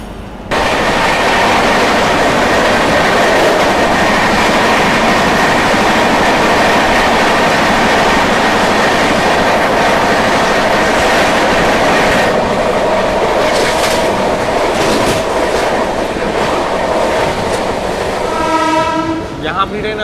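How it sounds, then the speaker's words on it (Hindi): A Bandra Jhansi Express train approaching a platform, heard from a moving train as a loud, steady rumble with clickety-clack of wheels, the roar holding throughout before easing near the end. "सामने देख लीजिए बांद्रा झांसी एक्सप्रेस जो है वो आ रही है प्लेटफॉर्म नंबर 4 की ओर"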